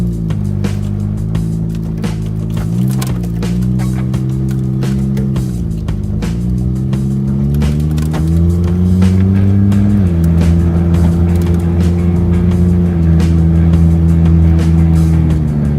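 A GO-4 vehicle on a test ride, its engine droning steadily and close for the whole stretch, pitch shifting slightly up and down as it runs, with no voices.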